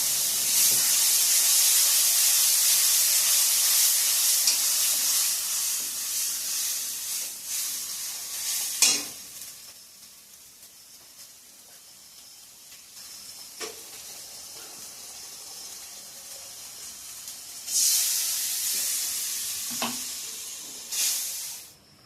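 A spice paste of ground mustard, ginger, garlic, onion and green chilli frying in a pan, loud hissing sizzle that fades to a low simmer with occasional clinks, then flares up again near the end.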